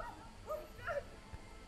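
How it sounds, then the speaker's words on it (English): Dogs in a Slenderman horror video game give two short yelping barks close together, faint and somewhat muffled against a low background rumble. "Oh, the dogs don't care."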